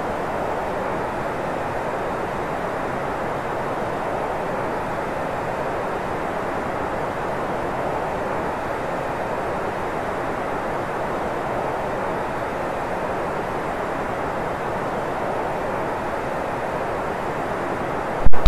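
Steady, loud engine roar of a Boeing 747-8 airliner in flight in the FSX flight simulator, a continuous broadband drone with no talk, ending in a brief click.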